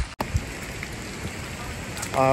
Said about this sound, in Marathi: पावसाच्या थेंबा यांचाही आवाज येतो आहे